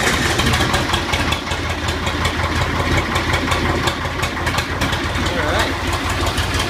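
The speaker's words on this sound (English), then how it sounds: "Started right up." 1984 Agri-Power 5000 (Zetor 5011) tractor diesel engine running: a steady, loud, close, chugging idle throughout, with someone speaking briefly over it.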